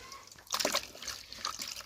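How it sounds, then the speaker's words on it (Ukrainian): A knitted mohair children's lace shawl is swished through water to rinse out foam, giving two short bursts of soft splashing and sloshing. The sound is quiet and close, with brief pauses between the bursts. "зараз всю піну повинні отак от із цієї павутинки всю піну вимити"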